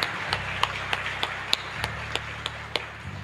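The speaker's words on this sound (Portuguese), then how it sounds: "Uma salva de palmas para o nosso SCC." Applause for a parish group during a night of Santa Teresinha church festivities, a dense wash of clapping with sharper claps recurring in a steady rhythm over a low hum, no voices.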